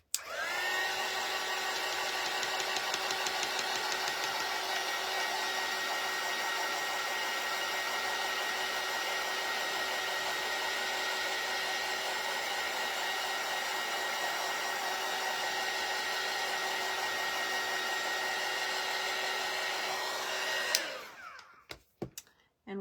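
A hair dryer blows steadily and loudly at close range for about twenty seconds, drying painted craft bird pieces, then cuts off near the end.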